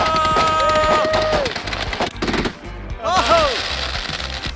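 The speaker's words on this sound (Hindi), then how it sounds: "मैंने बस रैंडम पटाखे खरीदे थे" Firecrackers and fireworks bursting in rapid machine-gun-like volleys, loud and close, with whistling rockets rising and crackling pops and shouting voices mixed into the barrage.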